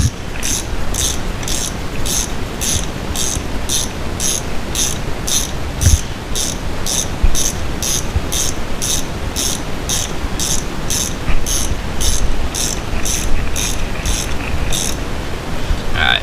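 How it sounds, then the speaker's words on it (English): Ratchet wrench turning a spark plug on a 2004 Chevrolet Cavalier LS, a regular series of sharp metallic clicks over a steady background hiss, close and loud, with no talking. "put your ratchet on it and go to town"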